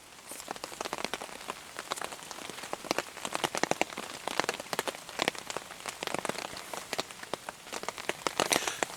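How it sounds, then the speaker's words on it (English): Rain falls steadily on a tarp at a camp, a dense patter of close drops with sharper individual taps throughout and no talk. "That is exactly when they said the rain was going to start."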